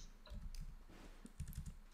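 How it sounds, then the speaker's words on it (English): Keys tapped on a computer keyboard in quick irregular bursts, moderately close but fairly quiet, with no voices over it. "I'm typing something."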